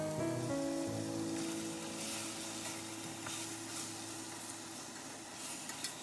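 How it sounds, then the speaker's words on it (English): Lamb bones sizzling as they sear in a pot with sautéed onions and garlic, a steady, quiet frying hiss with small crackles and a brief stir or clatter at the start. "I now add the lamb bones and sear this for 2 to 3 minutes"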